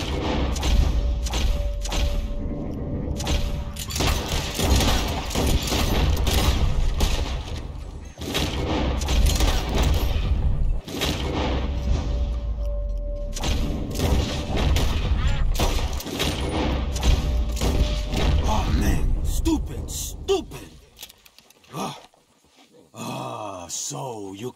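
Gunfire rings out in a Red Dead Redemption 2 shootout, with repeated loud shots and heavy thumps layered under voices and game sound, continuing for about twenty seconds before dropping off to a quieter tail.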